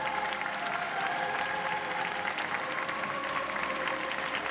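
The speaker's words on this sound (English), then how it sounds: "Applause erupting here around the centre." Spectators applaud at the Boccia gold medal matches of the Tokyo 2020 Paralympic Games, a steady, moderately distant wash of clapping throughout, with a faint tonal hum beneath.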